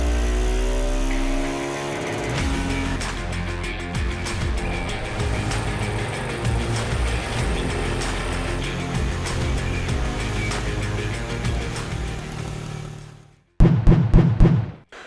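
A Husqvarna 701 motorcycle single-cylinder engine runs hard on a dyno, a loud sustained drone that climbs steadily in pitch for about eleven seconds, then cuts off into a few short revving bursts.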